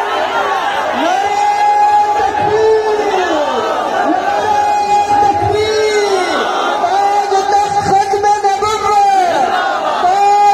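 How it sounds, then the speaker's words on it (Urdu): A large crowd at a religious gathering of Islamic scholars chants slogans in unison, loud sustained voices rising and falling in repeated waves with overlapping shouts. "بھائی نعرہ نہ لگائیں"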